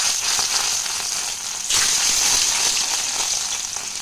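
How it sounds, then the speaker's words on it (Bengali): Paneer pieces, rinsed in water, spit and crackle while frying in a hot pan, making a steady loud sizzle with a brief surge partway through and no voices. "পনিরগুলোকে ভেজে নেব।"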